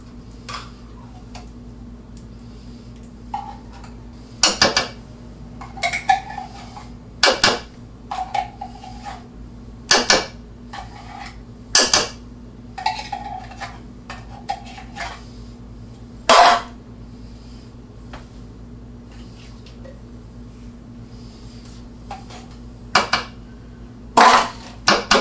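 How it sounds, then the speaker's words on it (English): A wooden spoon mixing tuna macaroni makes sharp, intermittent knocks and scrapes against the bowl, spaced irregularly over a low steady hum. "Take our wooden spoon and give it a real good mix"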